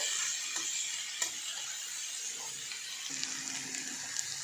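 Onions and okra for Sindhi bhindi bassar frying in a pan with a faint, steady sizzle, broken by occasional soft scrapes and clinks of stirring, no one talking.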